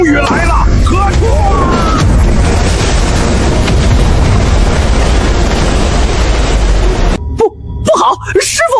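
A thunderous explosive punch in the video game Black Myth: Wukong: a loud, sustained roaring blast with deep rumble lasting several seconds, then an abrupt cutoff followed by brief voices.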